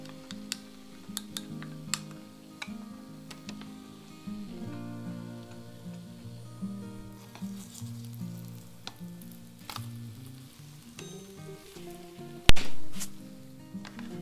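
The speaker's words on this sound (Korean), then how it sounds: "저는 그 사이에 계란 지단 붙일게요." Thin egg garnish frying in a hot pan while making zucchini noodle soup, a soft continuous sizzle with scattered ticks and clicks of utensils and a sharp clatter near the end, no talking.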